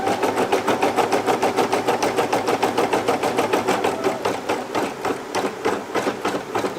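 An embroidery machine sews a placement stitch and tack-down on a T-shirt for 3D puff appliqué, a fast, steady mechanical chatter of needle strokes running loud and close throughout.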